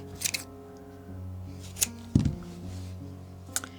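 Scissors snip through pieces of yarn for a fleece pony pillow, a few sharp, sparse cuts spaced apart against a quiet indoor background.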